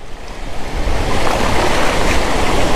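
Storm-driven sea waves surge and crash continuously with wind buffeting the microphone, a loud, dense roar of water flooding the shore around a half-submerged electric scooter, with no voices.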